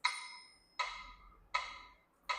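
Electronic keyboard metronome clicking at a tempo of 80, four sharp evenly spaced ticks each decaying quickly, close and quiet with nothing else heard.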